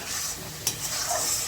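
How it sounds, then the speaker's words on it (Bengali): Spice masala stirred and fried in a pan while cooking soya chap, a steady close sizzle with soft scraping of a spoon, one brief sharper clink partway through. "মশলাটা ভালো করে কষিয়ে নেব।"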